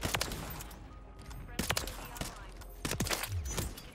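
Gunfire in a first-person shooter played on keyboard and mouse, several sharp, loud shots spaced a second or so apart, with a rapid burst between them and a player's voice and game noise underneath.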